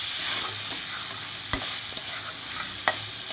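Onion and spice paste with ground tomato fries in a pan, a constant close sizzling hiss punctuated by a few sharp spoon clicks against the pan, with no one speaking.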